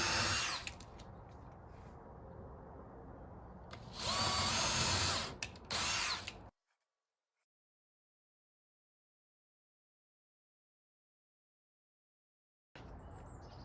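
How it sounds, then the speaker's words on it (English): Power drill boring small pilot holes with a 1/8 inch bit during headboard building, whirring in loud bursts that rise in pitch, then abrupt silence before a final burst. "you're gonna go through everywhere you've marked and drill a little pilot hole"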